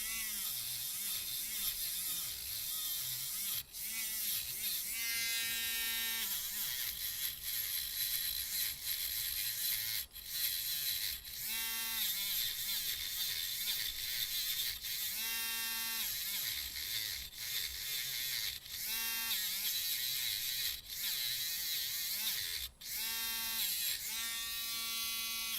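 A small, low-powered rotary tool spins a little brass wire brush against corrosion on a 1960s Dansette record player, a continuous high buzzing whine with repeated short grinding pulses as the brush presses on and lifts off the metal.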